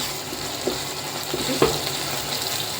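Ground masala roasting in oil for a home-style vegetable kurma, giving a low, even sizzle close by, broken by a couple of faint scraping taps from a spoon in the pan, with no talking.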